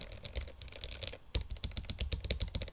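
Handwired gasket-mount mechanical keyboard typed on quickly, giving a soft, muted stream of dense clacks that turns into a faster, steadier burst toward the end, recorded close and fairly quiet.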